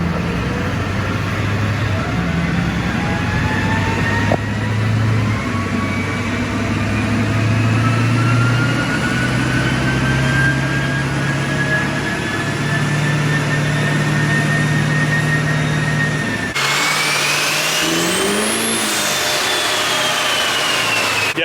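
A Duramax diesel pickup engine revving hard on a dyno, with a loud, continuous drone climbing steadily in pitch for a long pull before dropping off abruptly near the end.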